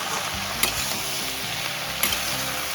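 Spices and chili powder stirred in a frying pan for a dried loitta fish curry with eggplant and beans, a steady sizzle under two sharp scraping strokes of the spoon, close and alone.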